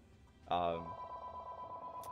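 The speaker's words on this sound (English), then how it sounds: "And I am sorry for that phone." A telephone gives one short, loud ring burst that leaves a steady hum behind it.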